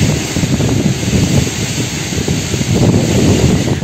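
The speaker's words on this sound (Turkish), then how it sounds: "aniden bastıran rüzgar hava durumunu bir anda değiştirdi" Sudden strong wind sweeps through city streets in Selçuklu, raising dust, a loud continuous roaring gust with heavy low buffeting and steady broadband rush throughout, no voices.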